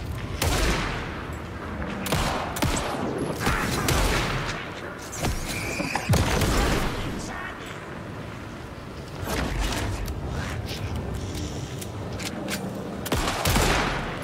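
Gunfire in the video game Alan Wake 2, with repeated loud bursts of shots and booms across the whole stretch, some rapid like automatic fire, heard close.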